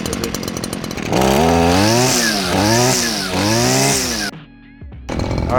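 A Stihl FS 94 R string trimmer's small two-stroke engine revs hard up and down in repeated throttle blips, loud and close, then drops suddenly to a quieter idle before rising again.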